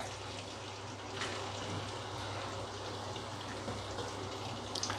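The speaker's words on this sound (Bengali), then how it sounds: "এবার নিকুতিগুলো ভাজতে দিয়ে দিলাম।" Small nikuti sweets sizzle in hot oil, a steady dense crackle and hiss close by with faint bubbling pops, no talk over it.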